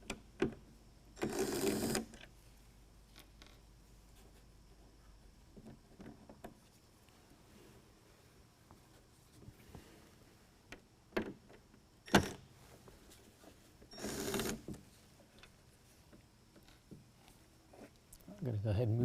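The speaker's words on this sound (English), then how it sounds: "So we're going to use the T20 and pull all 3 of those out." Power driver bursts removing three T20 Torx bolts from a 2019 Ram 1500 headlight assembly, with short whirring runs separated by quieter handling noise and clicks.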